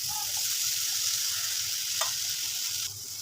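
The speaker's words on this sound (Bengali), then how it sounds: "ভালোভাবে নেড়ে চেড়ে কষিয়ে নেব।" Spice paste with ginger, green chilli and garlic sizzling in a pan over low heat, an even close frying hiss with a single brief stir or scrape partway through.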